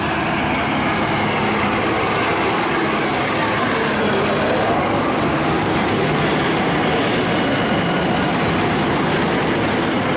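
A Victorian Railway diesel passenger train, VL74, departs Caroline Springs station, rumbling steadily at close range, its broad roar of engine and wheel noise holding level and loud throughout with no pause.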